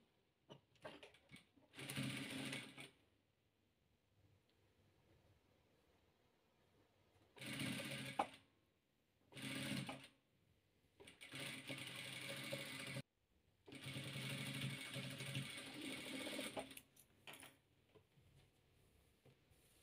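A sewing machine stitches rows of three-colour patchwork, running in several bursts of steady mechanical whirring with quiet pauses between them. It sounds close but fairly soft.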